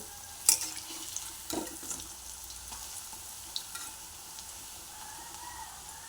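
Cabbage and onion pakoda fry in oil beside a pot of boiling tea, giving a soft, continuous sizzle with a few clattering stir knocks early on and faint bubbling, close and moderately quiet.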